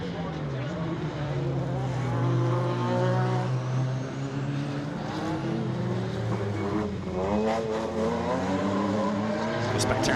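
Rallycross cars, including a BMW 3 Series, racing over loose gravel, with loud engines revving and shifting pitch as they pass, tires scrabbling across the surface while a commentator talks over them.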